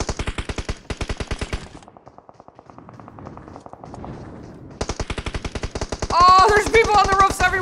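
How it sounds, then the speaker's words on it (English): M249 machine gun in a video game, rapid evenly spaced bursts of automatic fire, loud and close, pausing briefly before resuming, with a voice speaking under the shooting near the end. "Like an M249 out there."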